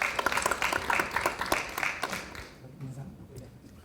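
Applause from the audience at an academic society conference, a brisk patter of many hands nearby that dies down after a couple of seconds into quieter room sound.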